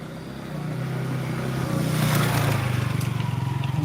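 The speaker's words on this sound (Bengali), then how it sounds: "এটা হচ্ছে ঝর্নার পানি" Steady, close rushing of waterfall water flowing, a continuous broadband roar that swells slightly midway, with no voices.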